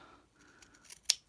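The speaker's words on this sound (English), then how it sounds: "then you're going to cut out with a bit of a area around it" Scissors cutting out fabric for a slow stitch embroidery piece: a couple of faint, close snips ending in one crisp sharp click of the blades.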